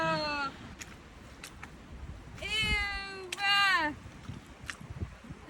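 Cats meow from inside travel backpacks on an Alaskan trip, with several loud drawn-out cries, two long ones back to back mid-clip and a shorter one at the start, over an outdoor background.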